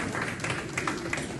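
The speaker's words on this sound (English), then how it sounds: "Yeah, please clap." Brief burst of dense, steady clapping from a Ugandan Anglican congregation at St Peter's, an Episcopal Church mission, at a retirement celebration for a reverend; no voices rise above it.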